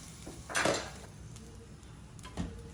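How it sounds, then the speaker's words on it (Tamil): A spoon stirs upma in a pan, giving two or three clear scraping knocks against the metal over a low background hiss. "இப்படி கிண்டிக்கிட்டோம்னா"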